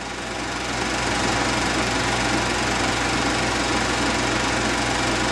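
Allis Chalmers WD45 tractor engine idling steadily close by with an even, knocking mechanical drone while a mounted implement is hitched with a snap coupler; no voices.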